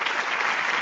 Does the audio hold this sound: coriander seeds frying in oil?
no